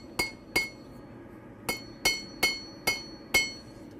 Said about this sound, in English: smoothing it off using the flat part of the hammer